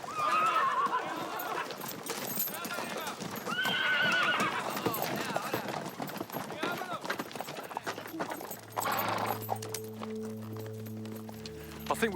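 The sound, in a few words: horses clip-clopping and neighing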